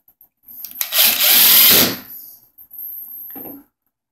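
A power drill drives a screw through a handle into its rod during furniture assembly, giving a loud whirring burst of about a second followed by a shorter, fainter run.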